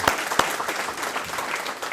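Studio audience applauding a guest's arrival on a talk show set, a dense burst of clapping with a couple of sharp louder claps, steady throughout the short stretch.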